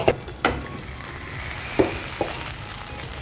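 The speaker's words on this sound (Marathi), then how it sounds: "थोडासा असा चुरचुर आवाज यायला लागतो ह्याचा अर्थ तो होत आला आहे" Methi chila fries in oil in a pan with a soft, continuous sizzle, broken by several sharp scraping clicks of a spatula, close and moderately loud with no talking.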